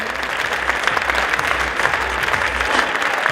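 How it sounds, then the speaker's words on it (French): A crowd at a sports awards ceremony applauds as a water polo team comes forward, dense, loud and continuous clapping from many people that holds steady from start to finish. "applaudissements"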